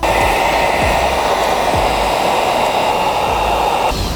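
A heat gun blows a loud, steady roaring stream of hot air while heating tint film on a 2019-2024 Dodge Ram 1500 Laramie taillight, running continuously up close.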